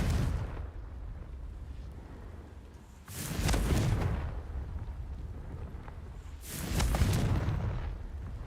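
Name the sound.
Confringo blasting spell explosion in a wizarding video game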